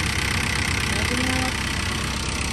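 A car engine idles with a misfire, giving a continuous rough rumble with uneven, shaky pulses, heard close by under steady mechanical noise.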